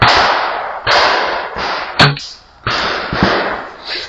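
An HW57 air rifle fires at 30 meters in a shotgun cartridge test, sharp cracks separated by bursts of broad hissy noise, one crisp strong report standing out midway.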